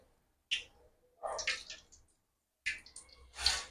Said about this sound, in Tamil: எண்ணெய் ஊற்றிக்கலாம்.